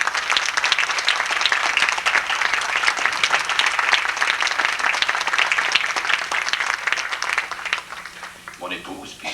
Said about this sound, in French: Alors, on va les applaudir tout ce monde-là